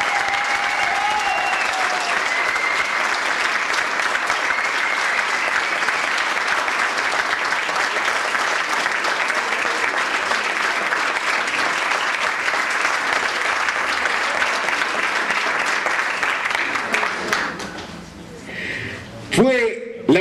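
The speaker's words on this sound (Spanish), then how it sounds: "recibimos con un fuerte aplauso al compañero que va como precandidato en el primer lugar" A crowd at a Partido Justicialista candidate presentation in Bragado claps in long, steady, loud applause welcoming a pre-candidate, tapering off near the end as a voice and a few sounds emerge.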